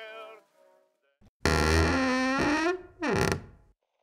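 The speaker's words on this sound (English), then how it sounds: "Damn, we got one creaky door." A creaking door in a horror video game gives a loud, drawn-out groaning creak lasting over a second. A shorter creak follows after a brief pause, and a few faint sounds come before it.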